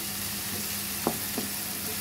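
Vegetables frying in a pan with egg, a soft continuous sizzle with two faint taps of a utensil, heard alone.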